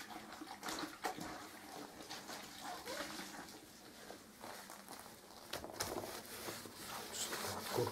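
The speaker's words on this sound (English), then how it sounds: "Another cloth into the water." Water splashes and trickles as a cloth is dipped and wrung out in a bucket while cleaning graffiti off a wall, soft and close with scattered drips and sloshes.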